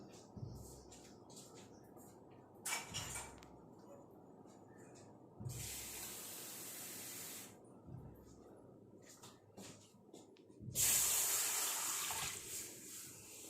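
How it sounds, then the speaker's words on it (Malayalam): Water poured into a hot iron pan, hissing and spattering in a few bursts, the last and loudest near the end, with quiet background between. "നമുക്ക് ഇതിനകത്തേക്ക് ഒരു ഗ്ലാസ് വെള്ളം ഒഴിച്ചു കൊടുക്കാം"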